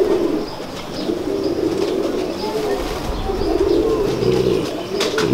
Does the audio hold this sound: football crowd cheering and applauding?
no